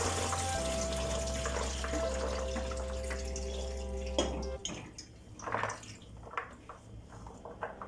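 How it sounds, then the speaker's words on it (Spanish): Water drained off chickpeas soaked since the day before, in a kitchen: a steady low hum fills the first half, then splashy pouring and trickling water takes over, with no talking. "Es importante que le drenes el agua."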